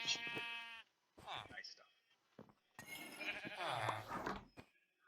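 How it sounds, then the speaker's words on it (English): Sheep in the Minecraft video game bleat in a few short, wavering calls, mixed with game sounds, while a person talks briefly. "a pin that has 2 sheep"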